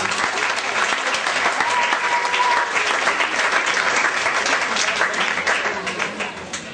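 A church congregation applauding during a worship service, dense sustained clapping from many hands filling the room, loud and close, with faint voices mixed in.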